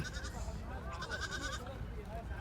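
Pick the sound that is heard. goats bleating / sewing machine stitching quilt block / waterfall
goats bleating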